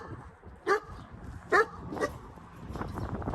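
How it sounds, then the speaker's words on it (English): Puppies outdoors by a stone building in Manti, Utah give three sharp, high yips spaced under a second apart at moderate distance, followed by softer whimpering over a low background rumble. "some cute puppies over here"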